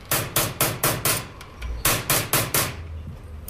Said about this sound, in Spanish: Se realiza en la cara externa con martillo y cincel.